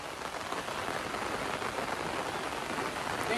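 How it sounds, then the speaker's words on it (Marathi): Heavy monsoon rain in the Konkan countryside, a dense, even hiss of drops pelting the ground that stays constant and fairly close for the whole few seconds. "खूप पाऊस आहे रे."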